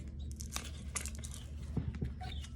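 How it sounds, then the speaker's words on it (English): Playing cards are shuffled, giving brisk crackling riffles and a few sharp snaps that sit over a low steady background hum, fairly close and moderate in loudness with no talk. "let's shuffle real quick."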